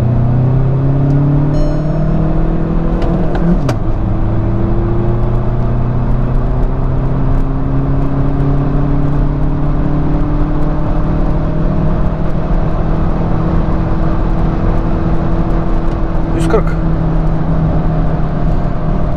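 Seat Leon 1.6 TDI diesel with a tuned 140 hp map accelerating under load in second gear, a loud close droning rumble with engine pitch climbing steadily through long gearing, no talk.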